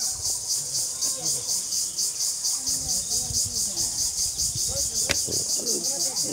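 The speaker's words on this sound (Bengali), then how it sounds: "দিনের বেলায় এখানে যেভাবে ঝিঝি পোকা ডাকতেছে মনে হচ্ছে যে সন্ধ্যা লেগে গেছে।" Crickets shrill steadily through the daytime in a rural spot, a continuous high pulsing drone that runs the whole time, with faint scattered background noises and a sharp click near the end.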